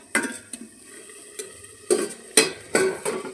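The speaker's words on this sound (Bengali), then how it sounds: "এখন একটু এটা উল্টো পাল্টায় দিয়ে যায় মাংসটাকে" Meat being turned and stirred in a cooking pot with dried red chilli, giving a few scraping, clattering strokes over a low sizzle, close and fairly loud, with no voices.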